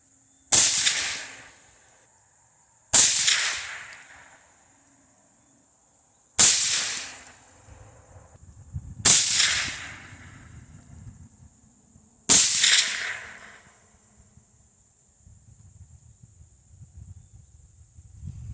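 Five sharp rifle shots from a Bear Creek Arsenal 18-inch 223 Wylde rifle firing Hornady VMAX ammunition at 50 yards, spaced a few seconds apart, each loud crack trailing into a brief echo with quiet gaps between.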